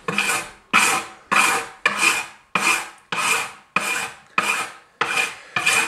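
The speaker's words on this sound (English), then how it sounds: "Start scraping." Wooden self bow limb being scraped during tillering, a steady series of about nine rasping strokes, each rising and fading, close and loud with no talk.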